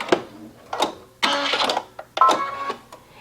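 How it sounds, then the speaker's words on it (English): A sewing machine runs in short bursts, stitching a small zigzag stitch in dark thread across stretchy fabric to hem it. It sounds close and fairly loud, with brief pauses between runs. "So Jen, just select a small zigzag stitch and stitch across"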